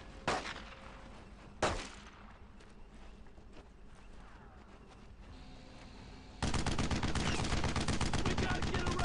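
Gunfire from the WWII shooter Brothers In Arms: Road To Hill 30, with two sharp shots early, scattered background firing, then a dense sustained burst of rapid automatic fire at the end.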